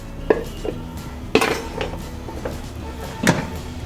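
Coated chana rattling in an air fryer basket during a light shake, three sharp clattering bursts of hard pieces against the metal basket, close and moderately loud, with quieter shuffling between.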